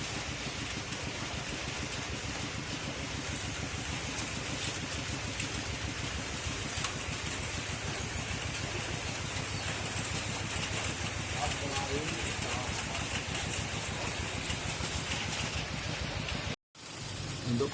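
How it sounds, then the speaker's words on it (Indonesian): A reassembled Honda Civic LX engine runs steadily after a rebuild, a continuous loud idle with wind buffeting the microphone throughout, cutting out briefly near the end. "Untuk perakitan mesin sudah selesai, sudah beres semua dan mesin sudah bisa nyala"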